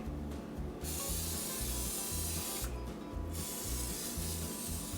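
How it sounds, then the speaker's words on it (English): Non-stick cooking spray hissing from a can onto battered onion for an air fryer, two steady close bursts of spray with a short pause between them, no voices. "I switched to just the regular non-stick spray."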